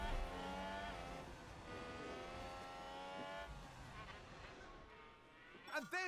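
Formula 1 race cars passing during an overtake in F1 Manager 22, a Williams car among them: steady high engine whine with pitch-shifting harmonics sweeping by, quiet overall, ending with a quick rising pass.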